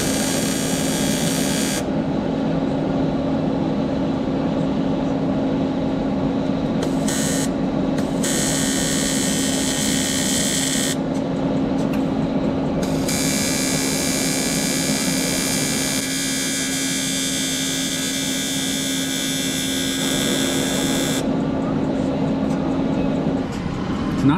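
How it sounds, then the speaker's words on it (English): The seam of a modified eBay fuel cell is welded shut, giving a loud, steady electric buzz and hum that runs without a break, with slight shifts in its hiss as the bead goes on. "I'm gonna weld the seam shut"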